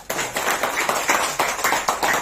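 A group at a sales training session claps in agreement, loud and close, with claps landing together in a quick, regular rhythm of repeated bursts.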